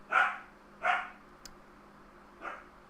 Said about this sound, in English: Sorry about the barking, guys. I've got puppies